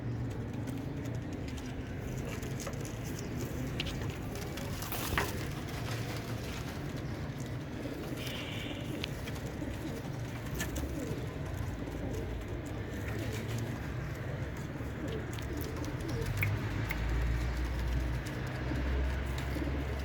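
Pigeons coo softly and repeatedly in a low, murmuring chorus, with faint background hum and occasional distant rustling.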